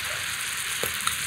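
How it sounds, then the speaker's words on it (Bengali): Meat sizzling in hot oil with onion, garlic, tomato paste, turmeric, chilli, coriander powder and ginger paste for a Bengali chicken kosha, a steady close frying hiss with a brief scrape of stirring partway through. "আগে মশলা দিয়ে নেড়ে চেড়ে মিশিয়ে নিই।"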